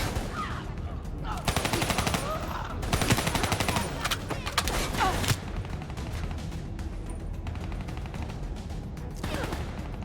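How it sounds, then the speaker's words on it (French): Rapid gunfire rattles through a Call of Duty Black Ops III match, with dense bursts of automatic shots and loud volleys, close and continuous across the whole stretch with barely any pause. "c'est lui qui tire dessus"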